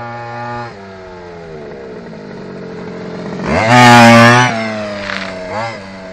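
A BMW engine idles with a steady hum, then revs up sharply into a loud roar for about a second before dropping back, followed by smaller blips; the engine chokes and pulls weakly on acceleration.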